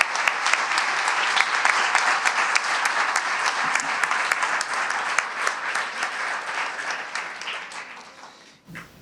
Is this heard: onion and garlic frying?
no